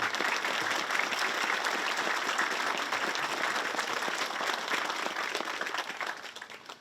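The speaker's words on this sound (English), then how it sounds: "would you join me in thanking them with applause" Steady audience applause at an outdoor veterans plaza dedication ceremony, a moderately distant crowd clapping evenly for nearly seven seconds before tapering off.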